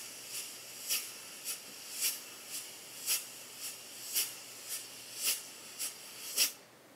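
A voice imitates a drum brush by pushing air through the lips in an F-like hiss, producing about a dozen soft, evenly spaced swishes in a steady rhythm, close and quiet with no talking.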